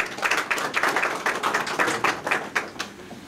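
Audience applause at a Turkish media and press association event as a guest is invited to the podium, a steady patter of many hands clapping close by with no voices.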